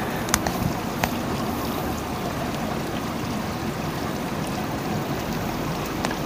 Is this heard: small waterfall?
yes